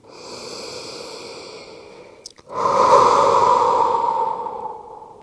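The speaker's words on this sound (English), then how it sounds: "3 more breaths." Two long, close breaths during a prenatal yoga breathing exercise, a softer airy exhale followed after a brief pause by a louder, fuller breath out that slowly fades.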